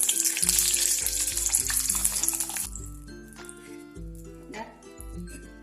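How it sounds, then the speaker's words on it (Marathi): Green chillies deep-frying in hot oil after kachoris, a loud steady sizzle and bubbling with occasional clinks of a slotted spoon, strong at first and then settling to a quieter crackle. "आता आपण ह्या मिरच्या तळून घेऊ"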